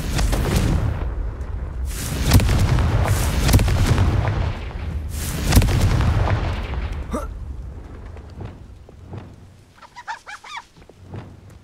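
A Confringo fire spell in Hogwarts Legacy erupts as loud bursting blasts with rumbling low end, several heavy booms in the first half followed by quieter scattered crackles and small pops.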